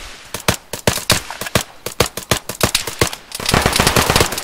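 Rapid bursts of gunfire in a military shooter video game set in Tora Bora, sharp shots cracking in quick irregular succession before merging into a denser, sustained volley, loud and close.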